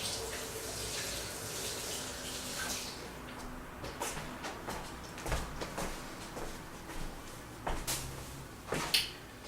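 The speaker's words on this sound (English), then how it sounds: "All I did was hold this underneath the running water" Faint running tap water rinsing out a blender blade after a smoothie, a soft steady splash with scattered clinks and knocks of the blade and jar against the sink.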